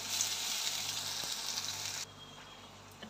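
Ground spices with turmeric and salt sizzle steadily in hot oil, a close, even hiss that drops abruptly to a quieter simmer partway through, with no voices.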